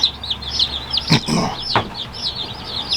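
Black copper Marans baby chicks peep in rapid, high chirps, close and continuous, with a couple of brief handling thumps as they are held.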